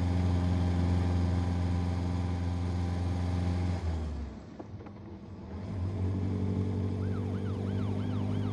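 A police car siren wails in rising and falling sweeps over a steady vehicle engine hum, dipping briefly mid-way before the siren returns with a clear two-tone warble.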